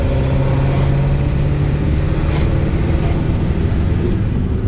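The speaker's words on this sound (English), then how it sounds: "So that was the life and times of a Power Stroke diesel." A red 2003 Ford one-ton Power Stroke diesel pickup drives along with a constant low engine drone and road noise heard from inside the cab, loud and steady throughout.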